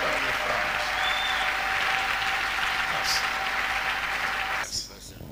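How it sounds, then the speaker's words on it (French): A church congregation claps for Jesus in steady, dense applause that fills the room for several seconds, then stops abruptly as a voice begins to speak. "Tumpikie Yesu makofi."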